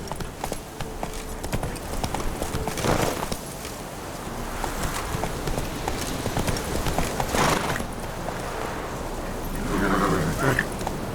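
Horse hooves clip-clop in a fast galloping rhythm in The Witcher 3, with wind and snorts, a short whinny near the end, and brief voice sounds over them.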